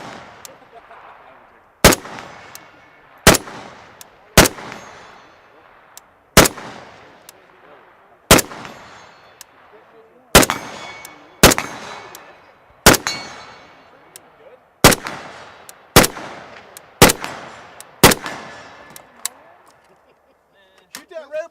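Rifle fire from a Century Arms VSKA during test shooting at targets out to 200, a steady series of about fifteen loud, sharp gunshots spaced a second or two apart, each followed by a brief ringing decay.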